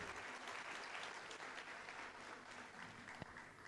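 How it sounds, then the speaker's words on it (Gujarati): An audience applauds at a motivational talk event. The clapping is sustained and fairly even, heard from a distance at low volume, with no speech over it. "સો જોરદાર તાળીઓ ચંદનભાઈ અને બાકી બધાની ટીમને આપણે"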